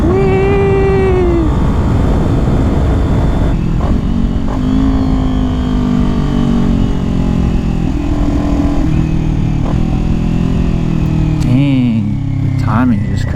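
A Kawasaki Ninja 400 motorcycle engine on a street ride revs and climbs through gears, a loud, continuous droning with rising and falling pitch under steady wind roar, plus brief squeaks near the end.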